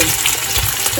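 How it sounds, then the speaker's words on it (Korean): Bacon and a fried egg sizzle in a pan, a dense, steady, close-up hiss of frying with no pauses. "베이컨 붓고 계란후라이 넣어가지고"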